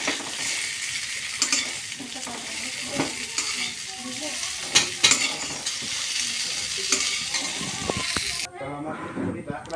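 Potatoes sizzle loudly in hot oil in a pan while a utensil stirs and scrapes them at intervals, a steady close frying hiss with a voice talking over it.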